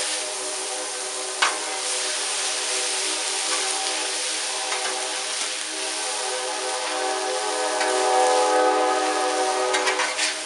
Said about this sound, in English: a train decided to come by right in the middle of the video